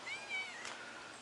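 A pet cat named Butthead gives a single drawn-out meow, close and fairly clear, rising then sustained, with no talking over it.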